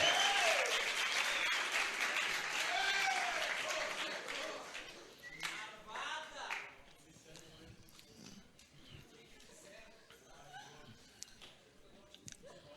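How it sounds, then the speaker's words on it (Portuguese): A church congregation breaks into loud, dense applause for the first few seconds, then it thins and fades to scattered claps and murmuring voices. "Vamos aplaudi-la por estar aqui."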